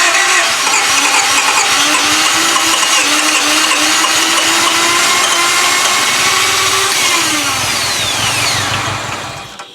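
A 1995 Honda Civic that won't start cranks loudly and continuously at close range, a harsh whirring drone with a rising and falling pitch that weakens toward the end as it struggles to catch.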